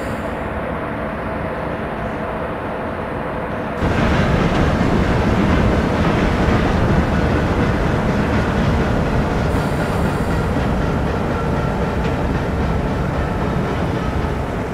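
WAP4 electric locomotive hauling a train in Train Simulator Classic, braking to a stop beside a goods train: steady rumbling rail noise that grows louder partway through, with rolling wheel clatter and a faint high squeal, continuous throughout.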